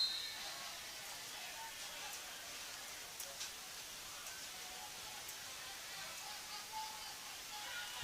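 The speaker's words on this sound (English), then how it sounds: "Rain still coming down." Rain falls steadily at an outdoor football game, a faint, even hiss of broadband noise lasting throughout, with a few soft ticks and no prominent voices.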